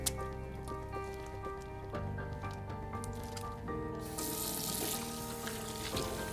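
Water poured steadily over soapy hands during handwashing, a continuous wet splashing and dripping that grows brighter and fuller partway through, close by with no talking.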